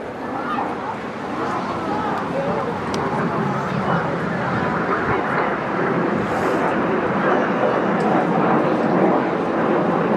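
RAF Red Arrows jets roar overhead during an airshow display at the English Riviera Airshow, a broad sustained engine rumble with people talking and a dog barking nearby.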